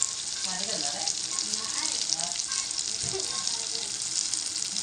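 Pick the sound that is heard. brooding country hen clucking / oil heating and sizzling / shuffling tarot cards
oil heating and sizzling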